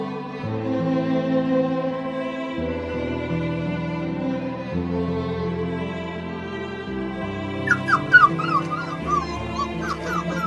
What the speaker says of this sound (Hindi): मुझे तो वो कुत्ता का बच्चा लग रहा है